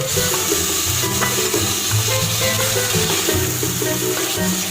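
Tomatoes fry in a pan with steady, close sizzling and occasional stirring scrapes, continuous and fairly loud throughout with no voices.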